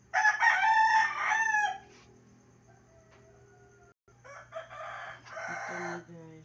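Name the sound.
roosters crowing at dawn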